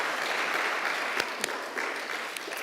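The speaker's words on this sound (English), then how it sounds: "Let's give them a round of applause," Audience applauding at a university research conference on media and communication, a brief, moderately loud wash of clapping from a hall crowd with a few sharper individual claps standing out.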